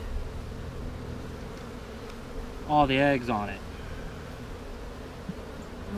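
Honeybees hum around an open hive during split preparation, a low continuous buzz in the background while someone talks briefly nearby.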